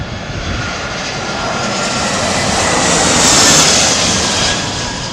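An aircraft comes in to land in gusty crosswinds of around 34 mph, its loud, close engine roar building to a peak and then easing. The roar is steady and broadband, with no talk over it.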